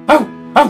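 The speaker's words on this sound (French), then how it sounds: "elle entend un bruit, un jappement qu'elle reconnaît" Two short dog yaps, loud and close, separated by a pause, used as a sound effect in a narrated story; no voices over them.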